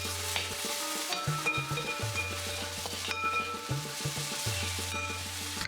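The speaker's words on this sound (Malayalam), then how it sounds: "പിന്നെ കുറച്ച് കറിവേപ്പില കൂടി ചേർത്തിട്ട് നമുക്കിതൊന്ന് വഴറ്റിയെടുക്കാം" Onions, ginger and curry leaves frying in a pan for a Malabar-style mackerel curry, with rhythmic scraping and stirring strokes over a steady sizzle, repeating through the whole stretch alongside a low droning hum.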